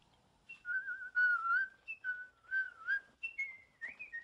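Someone whistles a casual, wandering tune up close, a series of short melodic phrases with brief pauses between them.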